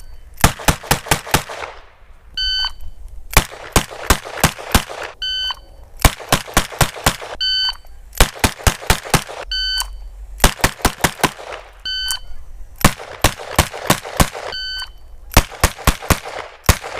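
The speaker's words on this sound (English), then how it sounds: "we're gonna try some longer range fast draw, shooting from the hip" Bursts of five rapid gunshots from long-range fast-draw hip shooting repeat in a steady cycle, each volley followed by an electronic timer beep; loud and close, with no talk.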